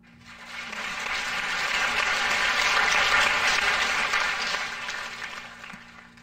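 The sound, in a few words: applause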